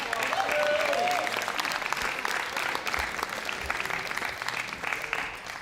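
Sustained round of applause from a crowd at a senior class banquet, dense clapping that stays loud and even for several seconds before easing slightly toward the end.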